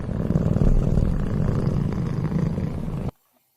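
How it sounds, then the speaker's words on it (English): A cat purrs loudly and steadily up close, a dense continuous rumble that holds for about three seconds and then cuts off abruptly into silence. "we like the kitty noise"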